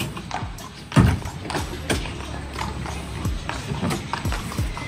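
Horses shifting and stepping inside a horse trailer, producing irregular hollow hoof thuds and clip-clops against the trailer floor, with occasional heavier knocks.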